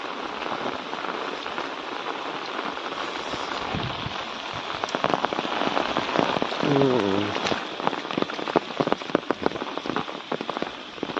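Steady heavy rain pours on a village in the Sambalpur area, a dense hiss of drops on surfaces that grows louder and more insistent partway through, with close, sharp drip taps standing out.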